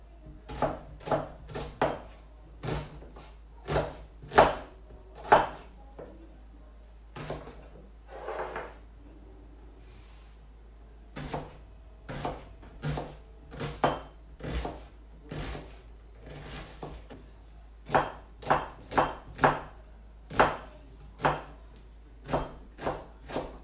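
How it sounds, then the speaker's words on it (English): An onion is chopped with a knife on a board for a kidney bean salad, making a steady series of sharp, close chops in quick rhythmic runs with short pauses between them. "First, I'm chopping onion."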